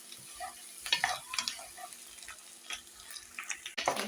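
Beef tripe cooking with onions in a pot, a soft sizzle with intermittent stirring scrapes and clinks, fairly quiet and close, without talk.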